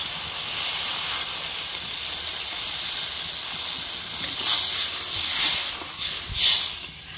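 Water poured into a hot cooking pan of simmering fish in a village kitchen gives a loud, continuous steamy hiss and sizzle, swelling in bursts near the end, close up with no talk.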